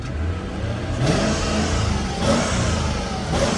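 A 2003 Mercedes-Benz SL500 Special Designo Launch Edition V8 revs on a cold start, with several throttle blips rising and falling over a steady mid-pitched engine hum, heard close up.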